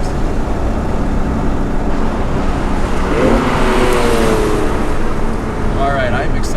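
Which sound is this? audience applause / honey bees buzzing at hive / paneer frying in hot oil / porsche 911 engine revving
porsche 911 engine revving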